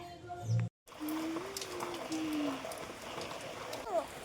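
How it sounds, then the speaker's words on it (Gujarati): Steady soft hiss of rain falling, an even patter throughout with a brief high call partway through. "વરસાદ ચાલુ થઈ ગયો"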